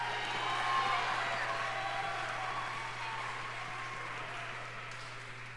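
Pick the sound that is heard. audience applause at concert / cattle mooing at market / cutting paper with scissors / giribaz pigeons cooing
audience applause at concert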